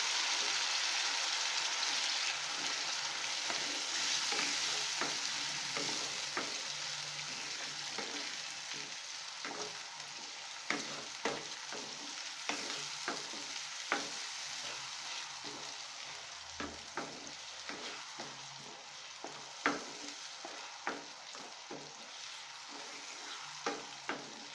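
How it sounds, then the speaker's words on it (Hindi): Tomato paste frying in a pan for an aloo chole curry hisses steadily while a spoon stirs and scrapes it, with light taps and clicks scattered through the long sizzle and no talking. "अब हम टमाटर का पेस्ट डालेंगे। अच्छे से मिक्स करना है हमें।"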